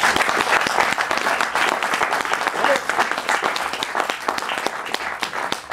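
An audience at a French reading performance by Daniel Prévost and Noël Godin applauds in sustained, lively clapping with distinct individual claps throughout, fairly loud and close.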